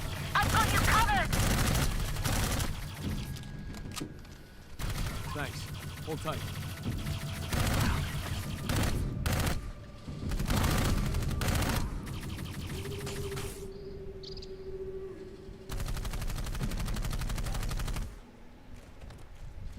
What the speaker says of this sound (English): They must have heard the gunfire.